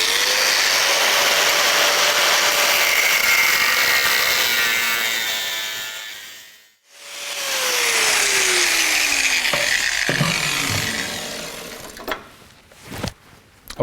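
A power grinder in a metal workshop cuts along marked lines in a piece of metal with a loud, steady high whine. It spins down to silence midway, then restarts and cuts again before ending in a few clunks and scrapes.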